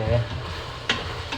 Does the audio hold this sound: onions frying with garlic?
yes